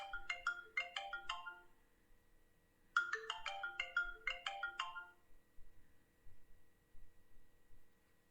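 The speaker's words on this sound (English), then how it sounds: "somebody's calling me" A phone ringtone for an incoming call sounds in two bursts of quick electronic melodic tones, moderately loud, separated by a short pause, then fades to quiet room noise.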